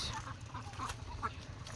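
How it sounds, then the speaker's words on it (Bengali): Ducks at a village wetland edge, driven toward the water, give low, steady quacking and clucking calls close by across a noisy outdoor background. "এই যে হাঁস"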